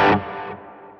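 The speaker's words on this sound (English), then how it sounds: "There's a little delay. Bourbon delay." An electric guitar played through a Bourbon delay pedal on a pedalboard gives one sharp distorted strum, which fades into a softer echoing tail within a second.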